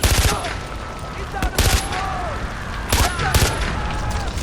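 Gunfire in the video game Far Cry 4, loud close shots in short bursts separated by pauses, with an echoing tail and game ambience between the volleys.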